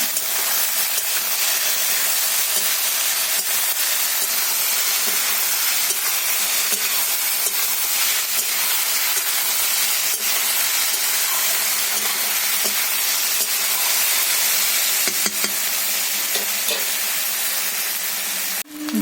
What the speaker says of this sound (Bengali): এরা 2 মিনিট ধরে ভালো করে তেলের সাথে ফ্রাই করতে হবে।